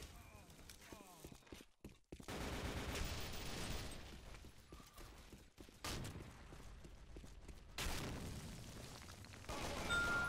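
Sniper fire in the video game Repulse sounds as sharp bursts of gunshots among other loud game noises, with pauses between volleys.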